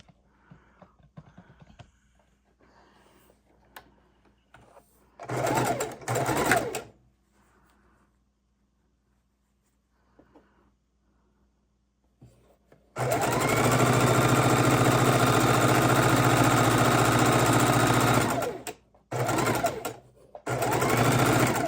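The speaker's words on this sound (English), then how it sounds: "I'm going to sew it with my seams up, so I can see where my seams are at." A sewing machine stitches log cabin quilt block pieces in two bursts: a short one of about a second and a half, then a long, loud, steady whir lasting several seconds with a brief pause near the end, amid quiet handling noises.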